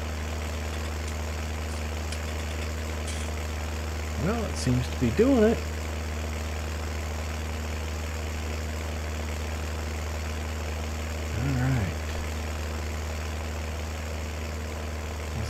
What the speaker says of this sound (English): Ooh, that made the engine on the tractor really crank up.